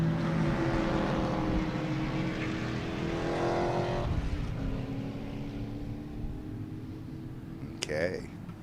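A race car engine at Sebring drones past at speed, the throttle eased as it enters a corner and then picked up again, loud and sustained, with commentators talking over it.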